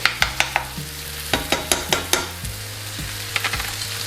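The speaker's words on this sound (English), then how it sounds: "You can really hear that sizzle away now." Tofu sizzles steadily in a hot pan, punctuated by sharp scraping and tapping of a utensil stirring it.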